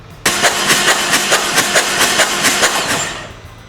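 A Harley-Davidson Street Glide motorcycle engine catches abruptly and runs with a steady, pulsing beat for a few seconds, then begins to wind down.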